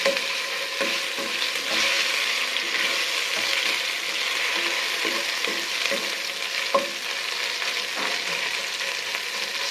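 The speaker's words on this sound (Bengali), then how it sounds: "এখন আমি প্রথম দিয়ে দিচ্ছি রসুন বাটাটা" Garlic paste frying in hot oil with fried onions for a chicken curry, a steady dense sizzle with occasional stirring scrapes, close and continuous with no talk.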